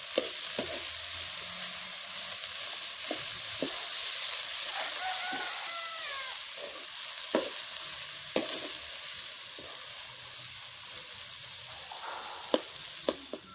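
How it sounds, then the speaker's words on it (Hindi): Wild figs roasting in masala in a pan give a steady close sizzle and frying crackle, broken by repeated sharp scrapes and taps of a spoon stirring against the pan. "अब हम इसमें शामिल करेंगे और इसको इस मसाले में अच्छी तरह भून लेंगे।"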